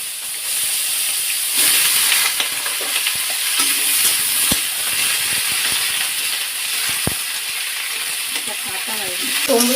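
Watermelon rind fries in hot oil with mustard seeds and dried chili, giving a loud, continuous hiss and crackle close by, with a few sharp spatula taps and faint voices near the end.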